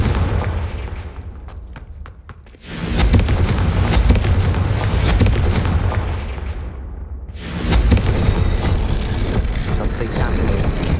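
A Confringo fire-blast spell going off in Hogwarts Legacy: two loud, roaring explosive bursts with crackling rumble that carry on for several seconds, preceded by sharp rapid cracks, with a voice heard briefly.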